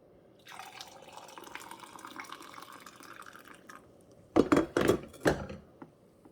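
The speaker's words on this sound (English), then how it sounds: "let's pour out some coffee" Coffee pours steadily from a Ninja coffee maker into a cup for a few seconds, followed by a few sharp clinks and knocks of ceramic being set down.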